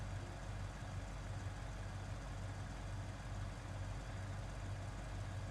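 Car engine with a modified exhaust in BeamNG, idling steadily with a low droning rumble and no revving, fairly quiet and even throughout.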